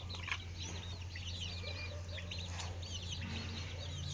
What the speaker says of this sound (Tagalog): Kani ako mga manok ko